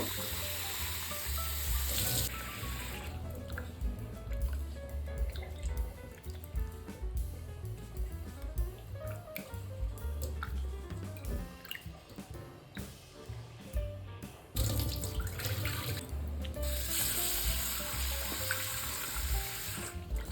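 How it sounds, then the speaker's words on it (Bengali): Freshwater mussels being rinsed again and again in clean water at a village kitchen: steady running and splashing water with sloshing and rattling of shells, continuous and close, with no talk. "দেখতেই পাচ্ছেন আমি বারবার জল পাল্টে পাল্টে ধুয়ে নিচ্ছি পরিষ্কার জলে।"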